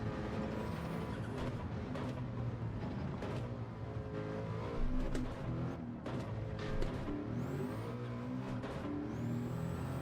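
Racing car on hard tyres in Gran Turismo 7 drives in a steady, dense engine drone with shifting harmonic tones, continuous and fairly loud throughout with brief surges.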